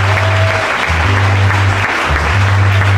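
A church congregation applauds in steady, loud, sustained clapping that fills the room, with a low hum running underneath throughout.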